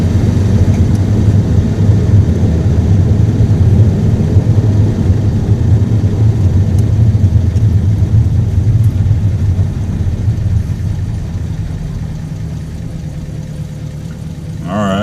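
A Buick Roadmaster engine with a freshly repaired carburetor accelerator pump runs loud and close, a heavy low rumble that holds steady and then eases slightly, while someone talks over it.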